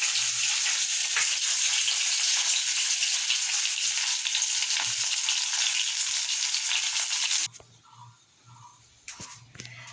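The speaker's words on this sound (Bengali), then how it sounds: "মাছটা আমার ভাজা হয়ে গেছে" Fish frying in a kadai sizzles loudly and steadily up close for most of the stretch, then the hiss drops away abruptly near the end, leaving faint scattered clatter.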